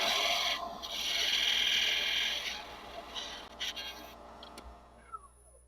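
A chisel cuts the taper off a wooden awl handle spinning on a lathe, giving a steady scraping rasp that fades into quieter scrapes and a few knocks.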